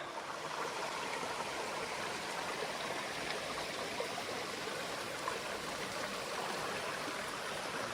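Steady, broadband rush of water flowing in Sulphur Creek in the Castle Crags Wilderness along the Pacific Crest Trail, continuous and close with no voices.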